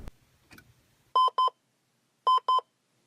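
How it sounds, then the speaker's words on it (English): An alarm gives two pairs of short, sharp electronic beeps, loud and clear against near silence, with faint rustling before them. "From the blaring of an alarm"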